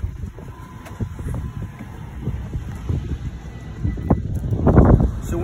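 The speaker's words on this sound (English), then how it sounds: "It's a little bit windy today." Gusty wind buffets the microphone in low rumbling bursts that swell louder toward the end, with no clear talk.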